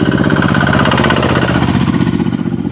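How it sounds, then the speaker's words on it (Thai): A small farm tractor engine runs close by on a rural village road in southern Laos, a loud rapid chugging thump with steady mechanical rattle. "รถไถเขาขับขี่แถวนี้เป็นรถง่ายๆนะรถไถ"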